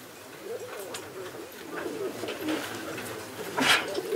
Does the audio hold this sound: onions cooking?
no